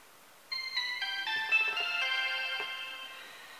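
A melodic phone ringtone plays steadily with repeating electronic tones, moderately loud and alone, with no speech.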